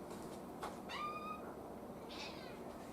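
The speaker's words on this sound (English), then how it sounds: "I hear a meow." A hungry female cat gives a faint, single drawn-out meow, followed by a softer second call, in a quiet room.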